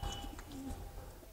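Pigeons cooing in a small home pigeon loft, low soft coos repeating close by with faint chirps over a steady hum, no voices.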